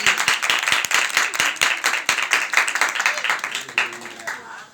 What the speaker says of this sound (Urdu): میرے یسوع کے جلال کے لیے زوردار تالیاں لگا دیجیے۔